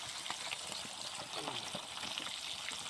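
Four kilograms of fish frying in hot oil outdoors, a steady hissing sizzle with faint crackles throughout, quiet and continuous.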